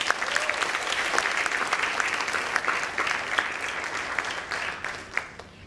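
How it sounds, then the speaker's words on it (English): An audience at a school education conclave breaks into a round of applause, a fairly quiet, even patter of many hands clapping throughout with a few sharper claps standing out. "Please give a good round of applause."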